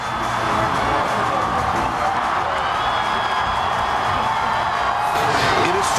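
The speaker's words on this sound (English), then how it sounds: "Listen to the crowd at Grant Park in Chicago." A huge outdoor crowd at Grant Park in Chicago on election night roars continuously as results come in. Cheering and whoops blend into a dense, steady wall of sound that fills the whole stretch without a break.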